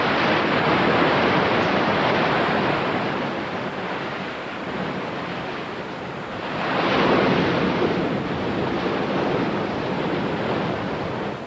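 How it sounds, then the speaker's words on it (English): Heavy seas surge and crash around an inflated life raft, a loud continuous roar of surf and wind that swells and eases in broad waves. "After bobbing up and down for half an hour in heavy seas"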